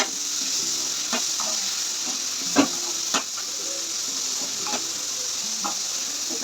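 Beans and egg frying in a pan give a steady bright sizzle throughout, with a few sharp spatula scrapes and clicks as the mixture is stirred, close and alone without talk.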